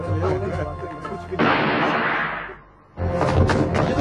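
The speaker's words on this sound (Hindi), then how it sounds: "गोली चलने की आवाज है।" A gunshot rings out in a tense indoor scene as a sharp broadband blast with a lingering roar of about a second, then a brief hush before background noise returns.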